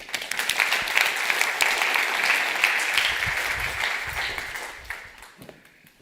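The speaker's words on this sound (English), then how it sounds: "Please give a warm round of applause for Jan Versteeg." Conference attendees applaud as the Dutch ambassador to France is welcomed to the stage. The clapping is warm and sustained, swells early, then thins and fades out by the end, with a few low thumps under it.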